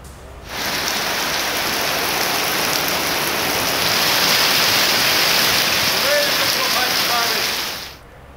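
Heavy rain pours down with strong winds in Pakistan, a loud, dense and steady hiss that fades in, holds for about seven seconds and fades out, with no talk over it.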